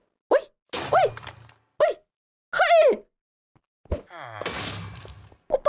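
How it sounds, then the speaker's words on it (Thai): An explosion in the Minecraft modpack Engineer's Life bursts out about two-thirds through as a loud, broad blast that fades slowly. Sharp thuds and short vocal gasps come before it. "เอ๊ะระเบิดเนี่ย"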